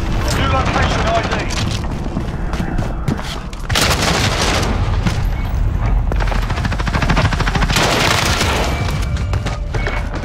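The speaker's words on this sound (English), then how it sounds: "Allied cruise missile away." Explosions from a cruise missile strike and rolling gunfire fill a Call of Duty Modern Warfare Headquarters match, loud and continuous, with radio voice callouts over the top.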